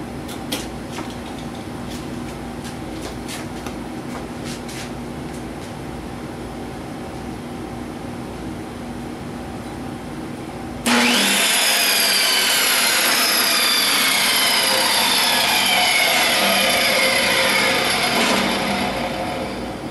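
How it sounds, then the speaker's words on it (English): An electric motor switches on after the tool is plugged in and then runs with a steady, loud whine that holds until the end, after a quieter stretch of ambient noise. "Let's plug her in just to see if the motor works."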